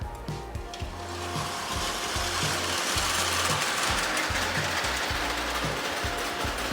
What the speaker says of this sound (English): This Lionel 33 runs a lot better than my other one, simply because he's got all new mechanicals